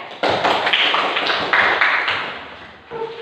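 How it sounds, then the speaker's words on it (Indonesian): A classroom group applauds, a burst of close, dense clapping starting abruptly and running for about three seconds before fading, with a brief voice at the end. "Berikan aplaus untuk kelompok"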